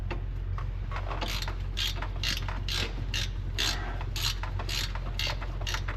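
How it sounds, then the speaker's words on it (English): A ratchet wrench turning bolts in a cramped spot gives a close, steady series of quick ratcheting clicks in short bursts over a constant low background hum. "This ratchet wrench doesn't like to work down here too good"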